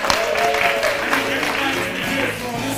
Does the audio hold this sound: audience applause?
yes